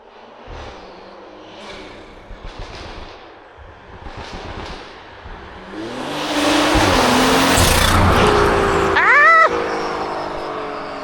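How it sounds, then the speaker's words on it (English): A car approaches and roars past loudly, its engine swelling then fading, with a sharp high squeal near the end and scattered voices earlier. "there's another car coming"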